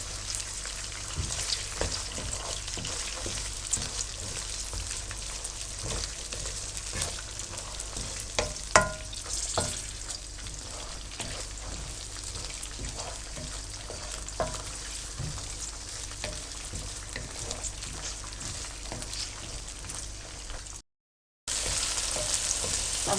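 Fresh green peas frying in hot oil for a matar fish masala curry, a continuous crackling sizzle with scattered pops and occasional stirring scrapes, close and steady, briefly cutting out near the end.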